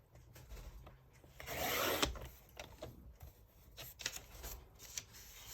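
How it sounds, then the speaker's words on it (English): Scissors trim the white border off script paper prints for a scrappy junk journal page, giving close, soft rustling and snipping with a swell of paper friction in the middle. "And I'm just going to cut this white off."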